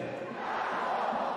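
Football stadium crowd at an Italian Cup match between Frosinone and Pisa, a massed roar of fans chanting in unison, steady and loud throughout the short stretch.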